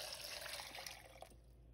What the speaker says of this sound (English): I'm just gonna add in our water.